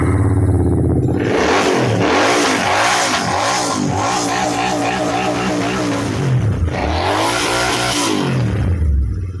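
A Royal Enfield Interceptor 650 motorcycle fitted with an aftermarket silencer pipe, in brand new condition, cranks, catches and revs repeatedly, its loud engine note rising and falling in several throttle blips close up.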